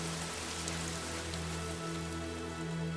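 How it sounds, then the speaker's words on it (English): Rain in the video game Fire Emblem, Black Eagles route: a soft, even hiss of falling rain, quiet and continuous, with sustained musical tones humming beneath it throughout. "It's a terrible day for Rain."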